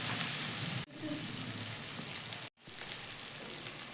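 Tomatoes fry in a pan with a steady, close sizzle that fills the whole stretch, broken by two brief dropouts.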